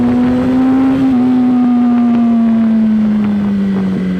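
Yamaha R1 sport bike engine at high revs, a loud, sustained whining drone holding steady and sagging slightly in pitch, buffeted by wind noise.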